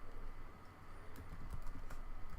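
Quick, light taps on a computer keyboard while entering server names into an Ansible inventory, faint and close against a steady background hum.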